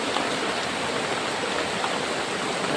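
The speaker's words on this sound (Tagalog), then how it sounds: "Grabe yung ulan tol. Hindi mapigil." Heavy rain pours down in a steady, dense, continuous roar with no break.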